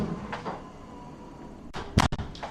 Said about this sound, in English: I'm gonna close my door.